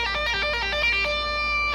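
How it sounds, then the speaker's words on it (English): A guitar played with a tapping technique produces quick, bright, rippling notes in a rapid repeating pattern, then a few sustained ringing tones, heard up close with no speech. "So a guitar tap is going to sound something like this."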